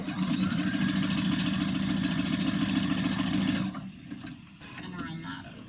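A home sewing machine stitches a seam on a knit Plantain T-shirt, its steady rapid whirring running loud and close for almost four seconds before stopping, leaving quieter handling sounds afterward.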